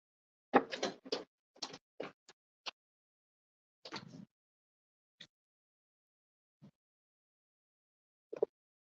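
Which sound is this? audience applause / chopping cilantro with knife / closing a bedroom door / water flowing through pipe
closing a bedroom door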